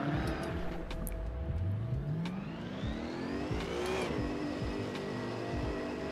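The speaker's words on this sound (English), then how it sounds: "Oh, I hear traffic." Race cars in Assetto Corsa at the Red Bull Ring, a close, continuous engine drone with a rising rev sweep and other cars passing nearby.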